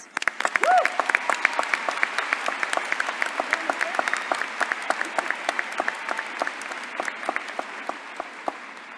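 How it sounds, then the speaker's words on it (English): An audience at the 2016 Whitehall High School graduation ceremony applauds: sustained, dense clapping from a large crowd that starts strong and slowly thins out over about nine seconds. "Please give them a round of applause."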